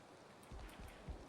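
Rain falling in the video game Valheim, a soft, continuous patter of drops with a few faint low thumps, quiet and steady with no talk.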